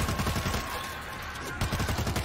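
Rapid gunfire in the World War Z co-op video game, a loud, dense stream of shots that briefly thins in the middle before resuming at full rate.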